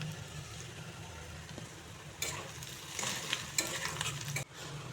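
Two large chopped onions and crushed garlic frying in plenty of oil for taro mash, a low simmering sizzle with scraping stirs and louder spatula strokes toward the end, close and moderately quiet.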